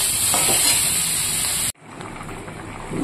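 Water poured into a pan of fried, browned vegetables, a loud hissing sizzle that cuts off sharply, then continues as a softer bubbling spatter.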